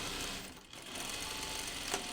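A sewing machine runs steadily, stitching a jeans seam in a continuous close-up whir with a brief dip partway through.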